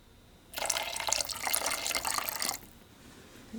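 Witch hazel poured for a homemade room spray: a steady close splash of liquid lasting about two seconds, then stopping into quiet.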